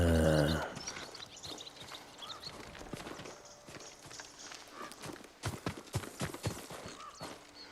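A farm horse's hooves clop at a walking pace in the video game Ghost of Tsushima, soft at first then louder and closer, with a brief burst of music at the start.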